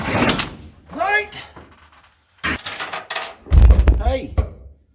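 A solid door thump lands partway through, between stretches of talking in a garage working on a 1940 Chevy Coupe, with a muffled knock-like impact near the end.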